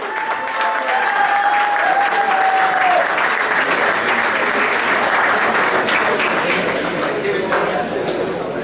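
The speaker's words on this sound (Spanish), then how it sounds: "Un aplauso, vamos." An audience gives a sustained round of applause at the unveiling of a Ferrari 458 Speciale, loud and continuous, with crowd chatter and a few whistles mixed into the clapping.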